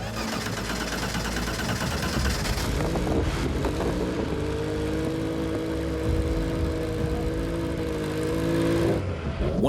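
A Porsche 962 race car's twin-turbo boxer engine, about 700 horsepower, warms up with a dense steady drone and rough idle, holding a constant loud rumble with a brief rise in pitch partway through.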